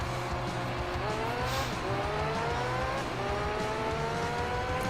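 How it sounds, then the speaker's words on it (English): A race car engine in the Gran Turismo 3 video game drones continuously, its pitch climbing repeatedly through gear shifts, with steady background noise and what may be tire squeal. "I could just hear a very faint engine sound."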